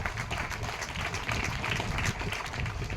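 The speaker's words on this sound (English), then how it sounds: "I would want each one of you to applaud the efforts of our Ranji team" An audience applauds the Ranji cricket team at an indoor cricket hall event, a steady dense wash of clapping, moderately loud and continuous throughout.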